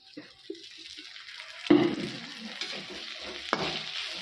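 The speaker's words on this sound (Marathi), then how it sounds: "हे चांगलं भाजू द्यायचं तेलाचं जास्तीत कमीच वापर करायचा" Brinjal and alu vadi shallow-fry in a little oil, a steady soft sizzle with occasional stirring scrapes and a couple of sharper clinks, close by and moderately loud, no talk.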